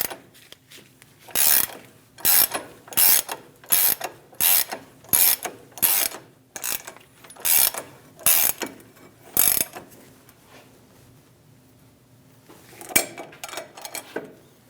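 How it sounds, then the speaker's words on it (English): A ratchet tightens the lower ball joint nut on a 2001–2006 Chevrolet Silverado 2500 HD during a steering knuckle replacement. It clicks up close in about ten rhythmic bursts of rasping pawl clicks, then pauses before a few final clicks. "We're going to snug down the lower ball joint nut."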